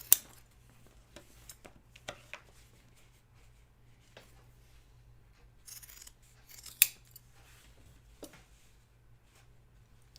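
Scissors cutting fabric for sewing, quiet scattered snips and rustles in a calm room over a low steady hum, with one sharper clip standing out near the middle.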